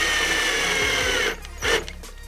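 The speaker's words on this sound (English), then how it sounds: "and then just set your two screws" A power drill whirs steadily while driving two screws to mount the bolt of a Schlage Connect smart lock in a door, then cuts off into short, loud follow-up bursts, close up with no talk.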